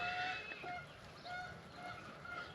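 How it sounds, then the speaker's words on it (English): Geese honk repeatedly at a moderate distance, calls overlapping in an uneven chorus against outdoor background noise. "There's little wild geese running around."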